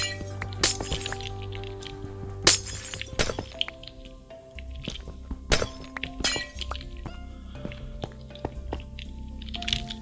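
Purple stained glass blocks break in Minecraft survival during an End City raid: several sharp glassy shatters and clinks over steady in-game background music, with no speech.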